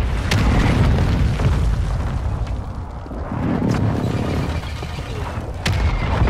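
Booming artillery-strike explosions land one after another in the Call of Duty Warzone video game, heavy and loud, rumbling throughout with a few sharp cracks on top.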